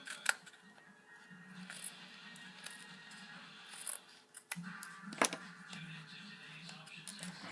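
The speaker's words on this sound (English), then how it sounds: "And I'm just going to cut off some of this around the top." Scissors snipping through craft material around the top of a tussie mussie, soft close cuts with faint rustling, quiet and intermittent, with low talk in the background.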